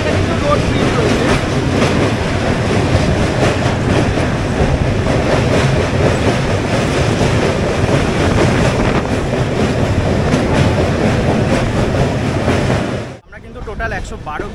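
Dhauli Express train crossing a rail bridge, with a loud, continuous rumble and clatter of wheels on track that cuts off abruptly near the end.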